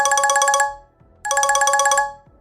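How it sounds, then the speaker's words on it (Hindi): A phone ringtone plays a quick repeating electronic melody in two bursts, separated by a short pause, loud and close. "दादू केयरटेकर से फार्म का जायजा ले रहे थे कि तभी अर्थ के फोन पर एक कॉल आया।"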